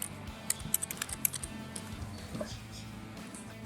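Clicking computer keyboard keys while text is entered in a Power Apps component, an uneven run of light taps near the mic against a soft steady background hum.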